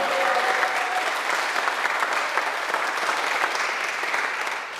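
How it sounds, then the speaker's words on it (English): A church congregation applauds its long-serving music director, with dense, steady clapping from a large crowd filling the room throughout before tapering slightly at the end. "Maybe he deserves a round of applause"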